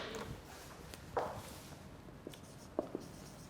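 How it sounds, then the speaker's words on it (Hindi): Pen or marker strokes sound faintly on a board during an online English lecture, as a few short scratchy marks come in scattered bursts over a quiet room. "मैं इधर लिख भी देता हूँ"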